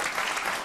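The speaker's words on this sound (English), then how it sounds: "getting applause up there, yes" A brief burst of dense audience applause fills a hall during a Question Time debate, steady clapping from many hands.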